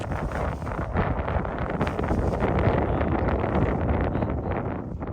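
Strong wind at the Hatcher Pass paragliding site roars and buffets against the microphone, a loud, steady, rumbling rush that never lets up.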